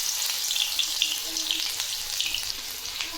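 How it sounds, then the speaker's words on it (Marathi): Garlic sizzling in hot oil for tempering while cooking puffed-rice chivda, a continuous bright crackling fry with small pops, close and steady. "तेल गरम झालं आहे त्यामध्ये आपण घालू लसूण"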